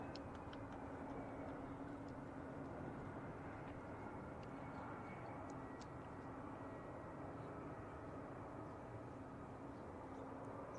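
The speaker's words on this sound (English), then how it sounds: "That's Alaska Airlines with Boeing 737-800" Alaska Airlines Boeing 737-800 jet at San Francisco International Airport, a steady broadband engine roar heard from a distance, continuous and even throughout, with faint ticking above it and no talk.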